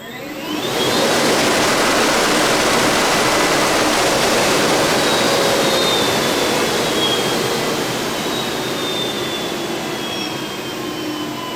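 A motor on a homemade electric dirt bike runs at full throttle, giving a loud, steady whirring roar that holds for about ten seconds and eases slightly toward the end. It sounds close and there is no talking.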